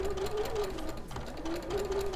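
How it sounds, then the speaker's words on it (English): A sewing machine stitches diagonally across fabric for a quilt piece, its motor giving a steady, close, continuous whirring hum with no pause and no voices. "I'm just going to stitch up diagonally to that point."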